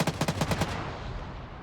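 A big gun fires in Arma 3 during a winter search and destroy operation. It lets out a quick burst of about seven heavy, evenly spaced shots that rolls into a long echoing tail, with no talking.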